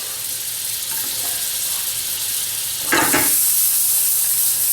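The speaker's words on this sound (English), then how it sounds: "So the pan's heating up. We're going to chuck in about a teaspoon of butter. Straight away our garlic." Butter and garlic sizzling in a hot pan, with a moderate steady hiss that jumps to a louder, brighter sizzle about three seconds in as the garlic hits the butter.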